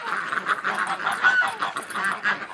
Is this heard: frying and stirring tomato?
no